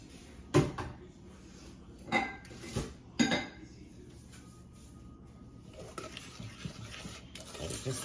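A spoon stirs a sweet pecan praline mixture in a pot, making several close scraping clinks against the metal early on, then a softer continuous patter of stirring, with no voices.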